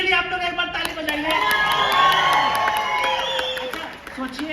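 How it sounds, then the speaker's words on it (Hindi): A live audience at a trading event claps and cheers loudly and continuously in a rising burst of applause, with whoops and shouts mixed in. A voice is heard near the end. "चलिए देवा जी के लिए आप लोग एक बार ताली बजाइए।"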